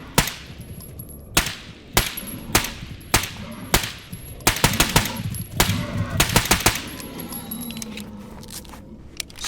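Bursts of gunfire in the video game Stalker Gamma: a string of sharp, separate shots, some in quick clusters, loud against a low ambient bed with no talk.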